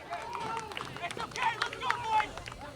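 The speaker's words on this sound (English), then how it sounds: "And the crowd here at Campo Guerreros getting into it." Crowd noise from spectators at a soccer match at Campo Guerreros, a steady babble of distant voices with occasional shouts and whistles running throughout.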